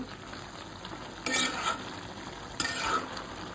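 Malabar spinach (pui shak) with prawns and green chilies is stirred in a pan over a soft frying hiss, with two brief scraping bursts of the spatula.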